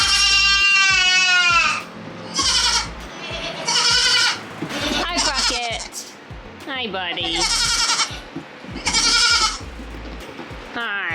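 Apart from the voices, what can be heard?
baby goats bleating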